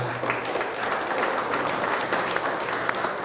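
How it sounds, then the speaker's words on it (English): Steady crowd applause fills an induction ceremony hall, dense and continuous throughout without pause. "Let's give them a big round of applause."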